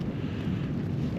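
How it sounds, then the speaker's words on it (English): Strong morning wind gusts roar steadily with a low, buffeting rumble across the microphone, continuous and fairly loud with no voices. "Just the wind has been quite loud"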